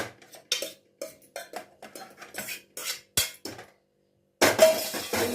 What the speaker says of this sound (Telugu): మిక్సీ జార్లో తీసుకుందామండి